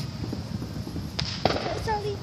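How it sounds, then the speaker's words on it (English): Fireworks going off in the street, a few faint distant pops and crackles under a person talking excitedly, with a brief whistle-like tone near the end. "Ooh, we finally saw some fireworks."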